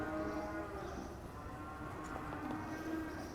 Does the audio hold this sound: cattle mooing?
yes